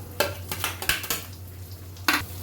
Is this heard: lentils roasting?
yes